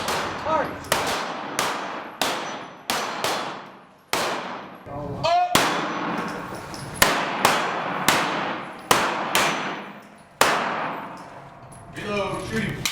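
Pistol shots ring out at an indoor defensive shooting range, a dozen or so loud, sharp cracks at uneven intervals, each followed by a ringing decay, with a brief metallic clatter near the end.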